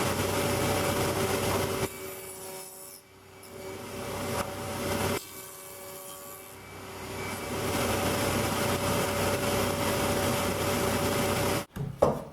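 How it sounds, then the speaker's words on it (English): A wood lathe turns a wooden upright while a tenon is cut on its end, a steady motor hum with tonal whine, dipping briefly twice as the cut eases, then stopping with a clunk near the end. "we'll cut a tenon on each end of the upright"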